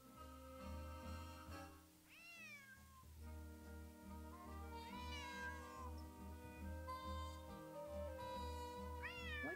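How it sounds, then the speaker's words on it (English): A cat meows repeatedly in the Nancy Drew mystery game Secret of the Old Clock, several drawn-out, rising and falling cries over a low, steady musical hum, close and clear. "What does this cat want?"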